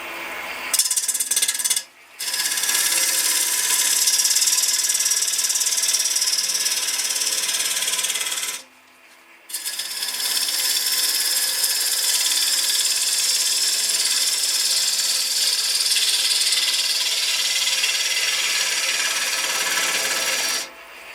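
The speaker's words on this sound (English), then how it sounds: "this time I'm just going to use a push cut into the tail centre to flatten off the base" A wood lathe push cut flattens the base of an ash hollow form into the tail centre, giving a steady, close scraping rasp that breaks off twice in short pauses, with no talking.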